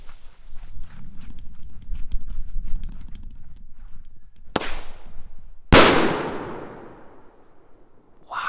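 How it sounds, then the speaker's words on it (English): Red and green salute firework fired as a single shot: after shuffling and rustling outdoors, a sharp crack is followed by one loud bang that rolls off in a long fading echo. "We got this awesome red and green salute,"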